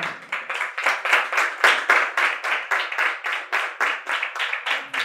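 A small audience at a talk breaks into applause: a steady run of distinct, fairly close hand claps with an even, pulsing rhythm and no talking over it.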